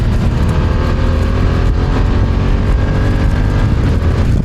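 A BMW F900R motorcycle runs through quick-shifter downshifts, its engine a loud, continuous drone close to the rider with no voices over it.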